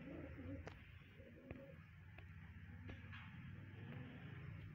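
A home-bred pigeon from a family breed gives faint, low cooing over a steady background hum, with a few soft clicks between the calls.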